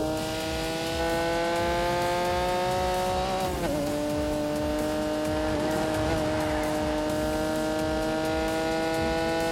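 A car's engine pulls hard at full throttle in The Grand Tour Game, its loud, steady harmonic note climbing, dipping briefly as the gear changes, then rising again with some tire noise underneath.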